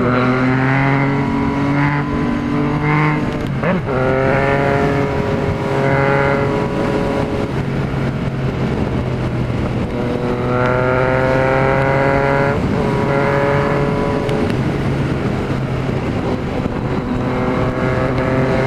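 Motorcycle engine revving and accelerating on a road, loud rising tones climbing through repeated gear shifts, close and continuous with wind noise.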